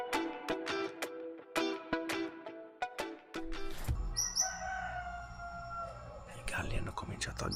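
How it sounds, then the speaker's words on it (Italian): Roosters crowing at night in Colombia, a couple of drawn-out calls at a moderate distance over quiet background with soft whispering voices. "I galli hanno cominciato a gallare."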